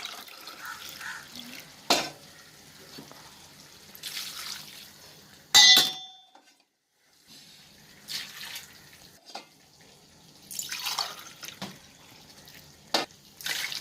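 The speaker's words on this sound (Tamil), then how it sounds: "இப்போ வந்து 11 கிளாஸ் ஊற்றினா போதும் தண்ணி" Water poured into a cooking pot for mutton biryani made with basmati rice, heard as several separate splashing bursts with a metallic clang partway through and quiet gaps between pours.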